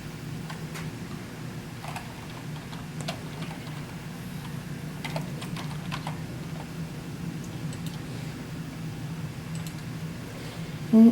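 Password keys tapped on a computer keyboard during a school account login, heard as soft, scattered clicks over a steady low hum, with no one talking.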